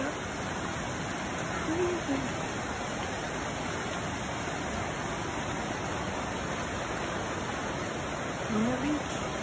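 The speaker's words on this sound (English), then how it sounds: "It's been raining for like nonstop for 24 hours." Heavy, continuous rain pours down in the Amazon forest, a dense even hiss with no breaks, and a faint voice is briefly audible beneath it.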